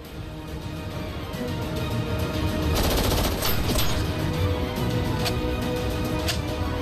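Rapid bursts of gunfire crackle and rattle over several seconds, dense automatic fire with a few sharper individual shots, loud and continuous.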